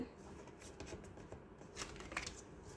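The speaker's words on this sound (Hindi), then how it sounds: "Okay, let me just flip the cards." Tarot cards are flipped and handled, producing faint, quick papery flicks and slides in a quiet room.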